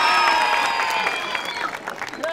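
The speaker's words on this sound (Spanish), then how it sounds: "¡Aplausos para la bombera!" Crowd applause for a contestant at a Halloween costume contest on a game show, moderately loud and sustained, with tonal music or voices layered over the clapping.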